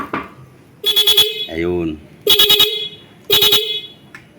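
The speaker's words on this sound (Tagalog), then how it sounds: "naglagay lang tayo ng interrupter nga pala dun sa ating horn, sa relay" A Yamaha Aerox 155 horn fitted with an interrupter relay sounds in three pulsing, stuttering blasts, loud and close, with a short spoken word between the first and second blasts.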